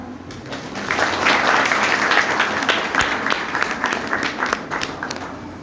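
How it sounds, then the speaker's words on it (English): An audience claps steadily for several seconds, a dense wash of applause that swells early and then slowly tapers. "Big round of applause for the students."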